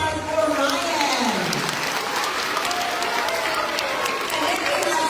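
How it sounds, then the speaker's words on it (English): Applause from a school assembly crowd at a Friday gathering, steady dense clapping throughout with a broad crowd murmur underneath. "Round of applause for Ryan."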